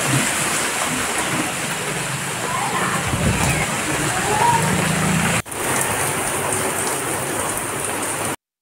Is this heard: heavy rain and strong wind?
yes